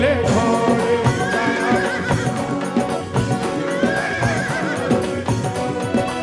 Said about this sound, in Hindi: लीले घोड़े